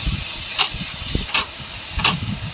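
Chopped onion, ginger, green chili and garlic sizzling in hot oil for stuffed bitter gourd, a steady close hiss with three brief bursts of sharper crackle and some low clatter underneath.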